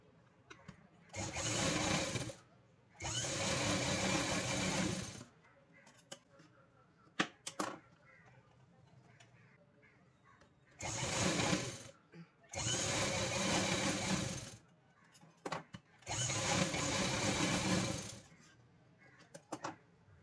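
A sewing machine stitches the shoulder seams of a frock made from a saree, running in several loud, steady bursts of a few seconds each. Short handling noises fill the pauses between bursts.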